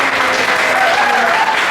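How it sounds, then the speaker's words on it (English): Audience applause at an open mic night, a dense burst of clapping close by and loud, steady throughout, with a few voices mixed in. "big round of applause for Steph and Pardy."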